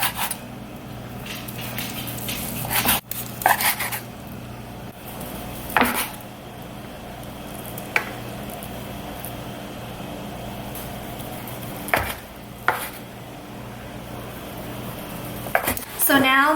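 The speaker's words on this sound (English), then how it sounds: "So now I'm going to cut my Char Sui Pork." A knife cuts chilled char siu pork on a board for wonton soup, with sharp knocks of the blade hitting the board every few seconds against a quiet kitchen hum.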